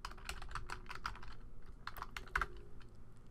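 Quick bursts of keystrokes on a computer keyboard, close and fairly quiet, with irregular clicks and short pauses between them.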